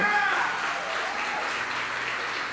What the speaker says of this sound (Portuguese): Você pode aplaudir assim?